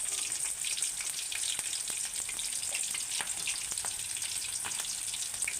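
Curry leaves dropped into hot oil produce a continuous, dense crackling sizzle with scattered sharp pops, close and steady, with no talking.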